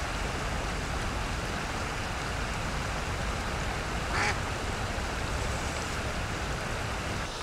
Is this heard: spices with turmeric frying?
no